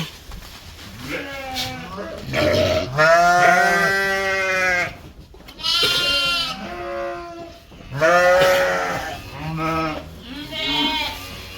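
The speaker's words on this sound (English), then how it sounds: "Now it is time to feed these sheep." Dorper sheep bleat loudly and repeatedly at close range while waiting to be fed, several overlapping calls rising and falling in long wavering cries across the whole stretch.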